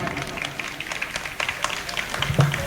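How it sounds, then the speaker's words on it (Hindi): Applause at a mushaira poetry gathering welcoming poet Akhtar Allahabadi, scattered clapping building unevenly over a couple of seconds, fairly close and moderately loud. "पुरजोर तालियों से इस्तकबाल कीजिए अख्तर इलाहाबादी साहब"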